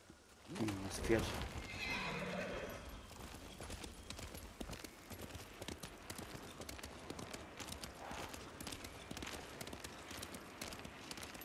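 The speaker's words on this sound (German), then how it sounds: "Das Pferd." A horse in the video game Ghost of Tsushima gives a loud whinny near the start, followed by steady clip-clopping hoofbeats that continue under game ambience for the rest of the passage.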